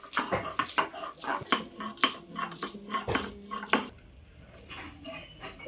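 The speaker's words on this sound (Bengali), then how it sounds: "ততক্ষণে আমি এখানে রসুন আর আদাটা বেটে নিচ্ছি" Garlic and ginger being ground into paste by hand in a kitchen while cooking chicken biryani, heard as a steady run of knocking and scraping strokes, close and fairly loud, that stop near the end.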